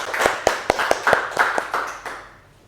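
A few people clap for two presenters in a classroom, a short burst of about ten sharp claps close by that fades out within a few seconds.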